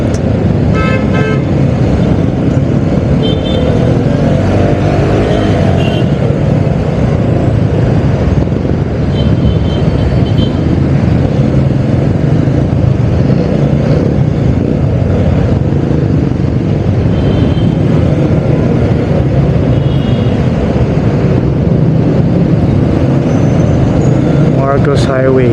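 Busy city road traffic heard from a Vespa Sprint scooter, loud and continuous engine and road noise with occasional car horn toots, while a rider talks over it throughout.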